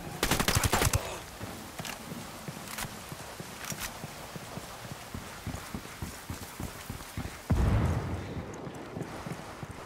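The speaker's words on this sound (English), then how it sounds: "we got a sniper!" Gunfire in the open-world shooter Ghost Recon Wildlands, with a loud rapid burst at the start, scattered sharper shots, and a heavy boom later over a steady outdoor ambience.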